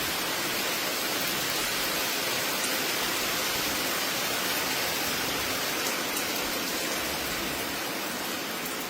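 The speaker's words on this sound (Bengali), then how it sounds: "বৃষ্টির জন্য তো বের হতে পারছি না, তাই বেলকনিতে দাঁড়িয়ে বৃষ্টি দেখতে থাকি।" Steady, dense rain falls during a trip to the Sundarbans, heard from a balcony as a constant even hiss with no pauses and no voices.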